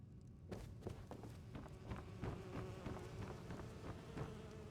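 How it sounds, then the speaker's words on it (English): Bees buzz in a tower room in the Skyrim Special Edition video game, a faint, continuous insect drone mixed with footsteps that thud at an uneven pace. "I hear the bees buzzing in there and it bothers me"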